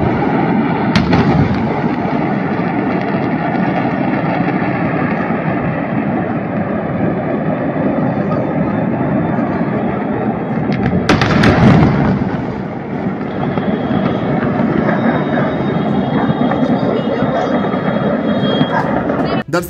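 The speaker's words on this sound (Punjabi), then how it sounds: "ਇੱਕ ਪਟਾਕਾ ਫੈਕਟਰੀ 'ਚ ਅਚਾਨਕ ਧਮਾਕਾ ਹੋ ਗਿਆ" Explosions at a firecracker factory in Harda, Madhya Pradesh: a continuous dense rumble of blasts and crackling, with a sharp louder burst near the middle and a final crack at the end, loud and sustained throughout.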